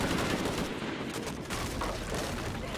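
Sustained automatic gunfire rattles through a firefight in the action game Shadow of the Tomb Raider, a dense, loud burst of rapid shots running unbroken for a few seconds with no voices.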